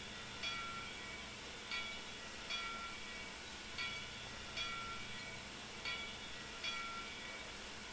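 Steam bell on a CP F1a Jubilee 4-4-4 locomotive in Trainz 2022, rung by its little arm, giving soft, evenly spaced strokes about once a second over a steady background hiss, with no voices.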